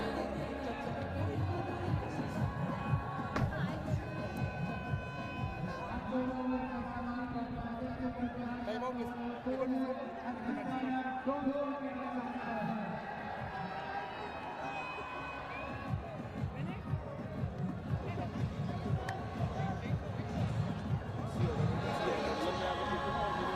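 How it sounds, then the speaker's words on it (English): Stadium crowd at a Legends League Cricket match cheering and roaring steadily after a boundary, a dense wash of voices under continuous commentary. "Crowd's absolutely loving it"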